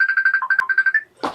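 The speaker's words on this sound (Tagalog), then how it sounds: "May tumatawag ate." A mobile phone ringtone for an incoming call plays a quick repeating electronic melody of short beeping notes, loud and close, cut off abruptly and followed by a brief rustle.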